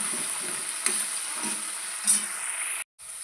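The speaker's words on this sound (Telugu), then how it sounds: "దొండకాయ ముక్కలు కూడా వేయించుకుందాం." Ivy gourd (tindora) pieces fry in a pan with a steady, close sizzle, a few louder crackles and stirring scrapes, then a brief drop to silence before the frying resumes.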